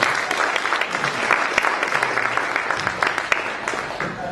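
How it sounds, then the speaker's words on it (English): A crowd gives speaker Kevin Russell a round of applause, an even, continuous clatter of many hands at moderate distance with a faint voice underneath. "Big round of applause for Kevin Russell."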